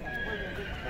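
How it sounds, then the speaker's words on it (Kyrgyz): At a busy horse market in Tokmok, Chüy region, a grey mare gives a brief high whinny amid steady crowd murmur and nearby talk. "Монда да бир боз бээ турат."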